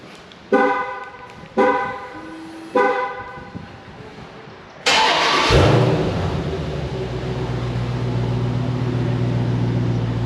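A car, its paint and glass ceramic-coated, starts while still warm: a few short horn-like chirps first, then a loud crank that catches and settles into a steady, close idle hum.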